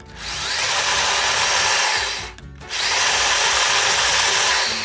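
An upgraded RC car motor spins up on a 2S battery during a bench test, giving a loud, high whine. It cuts out briefly in the middle and then revs back up to full speed.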